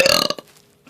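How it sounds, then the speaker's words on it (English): A single loud, rough burp from close by, lasting under half a second and then trailing off into quiet room tone. "She likes it when I burp, I guess."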